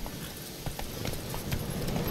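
Horse hooves clip-clop steadily across ground in The Witcher 3, a continuous rhythmic gait heard up close over a low background wash of game ambience.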